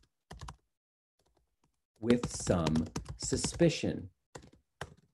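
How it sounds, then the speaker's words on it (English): Someone types on a computer keyboard in a few quick clustered bursts of close, crisp key clicks, partly mixed with a voice talking. "Not too fast typing, okay."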